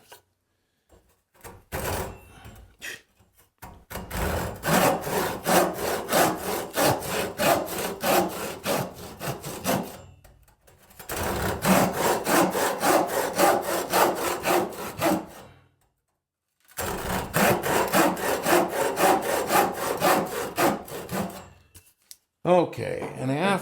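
A hand saw cuts through wood for a half lap joint in three long bouts of rapid, rhythmic rasping strokes. Brief pauses separate the bouts. The sawing is close and clear, with no talking.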